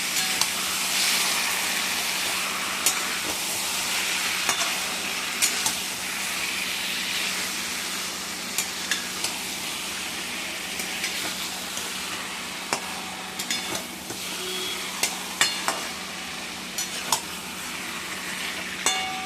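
Marinated food sautéing in a pan on an Indian home stove, a steady soft sizzle and hiss with scattered pops and clinks of stirring, fairly quiet and continuous with no talk.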